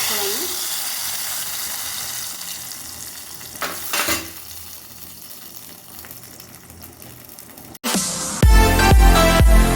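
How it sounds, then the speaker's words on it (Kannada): Cashews and raisins fry in ghee for hesaru bele payasa with a steady, close sizzle and a couple of scraping stirs. Near the end the sound cuts abruptly to loud music. "ನೋಡಿ ಇವಾಗ ನಾನು ಗೋಡಂಬಿ ಹಾಕ್ತಾಯಿದ್ದೀನಿ"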